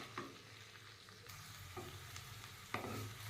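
Okra pieces fry in oil in a kadai with a soft, continuous sizzle and occasional scraping or tapping of a spatula, fairly quiet and close, with no voices.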